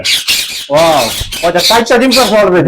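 A ringneck parrot at a bird farm gives loud, harsh squawks in several bursts, up close and dominating.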